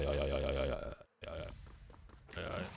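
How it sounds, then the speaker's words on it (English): A person lets out a deep, rumbling burp lasting under a second, loud and close, then breaks off into a short gap before video-game sounds resume. "I burped in the library."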